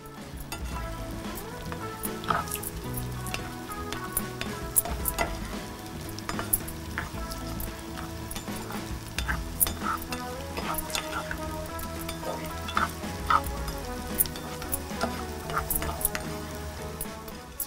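Garlic and dried buttermilk chillies frying in a pan for Chettinad rice sundal upma, a busy crackling sizzle with frequent spatters and the clatter of stirring, close and continuous.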